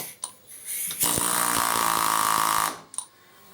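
Pneumatic air chisel hammer on compressed air from a switched-off compressor, bursting into a loud, steady rapid hammering roar for about a second and a half, framed by short hisses of air before and after.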